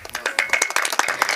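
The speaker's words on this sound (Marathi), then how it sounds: "अजून एकदा वाजवा टाळ्या" An audience claps together at a kirtan devotional performance, a dense, brisk patter of many hands that swells and dips over a brief burst with a bit of voice mixed in.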